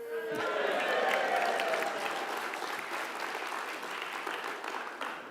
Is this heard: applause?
yes